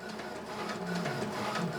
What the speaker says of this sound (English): If you have a direct network connection, it would print at this speed as well as with the USB connection as I have here.